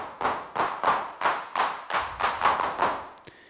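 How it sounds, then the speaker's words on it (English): Roland TR-6S drum machine playing its clap model: seven or eight sharp synthetic handclaps in an even rhythm, each with a short noisy tail, ending in a faint click. "Next, we have a clap model."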